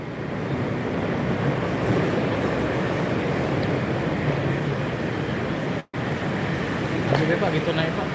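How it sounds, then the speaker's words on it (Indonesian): An LRT train at a Palembang station makes a steady, loud rumble of running wheels and motors. It holds evenly for about eight seconds, apart from one brief dropout. "Hari ini saya di stasiun LRT Palembang, mau menuju Ampera."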